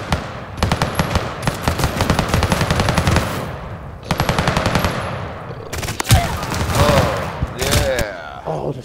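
Video game gunfire rattles in rapid, loud automatic bursts separated by short gaps, with shouting voices toward the end.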